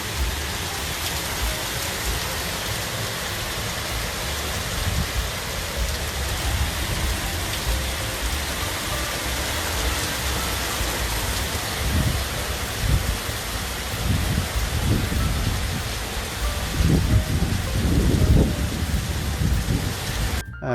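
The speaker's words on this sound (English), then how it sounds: "What an amazing rain! Unbelievable! Such a storm." Heavy rain pours in a dense, steady hiss during a summer thunderstorm in Oakville, Ontario, with low thunder rumbles swelling near the end.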